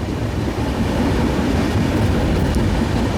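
Mandovi Express 10103 running on the Konkan Railway during the monsoon, heard from inside as a steady, loud rumble of wheels and carriage noise with faint rhythmic clatter, continuous and without speech.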